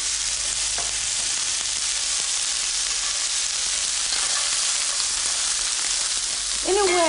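Three cans of drained chickpeas frying in hot scented oil, a dense, loud, continuous sizzle close by with occasional stirring, and a brief tonal sound near the end.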